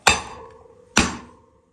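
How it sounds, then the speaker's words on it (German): Two sharp metallic hammer blows strike a threaded rod driven into a Hase Kettwiesel recumbent trike's axle to knock it out, each crack ringing briefly and decaying, about a second apart, close and alone. "und dann mit einem Hammerschlag"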